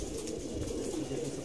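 Racing pigeons released onto a rooftop coo softly and continuously, a faint, low murmur from a flock at a moderate distance.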